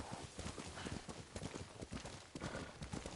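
A horse in Ghost of Tsushima trots along a snowy northern path, producing steady, close clip-clop hoofbeats in a continuous rhythm without any talking.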